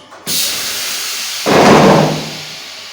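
A cheese slicing machine cuts stacked stick tulum cheese blocks into 22-gram slices, giving a steady mechanical hiss that rises into a louder, fuller whirring burst midway and then eases off, with no voices.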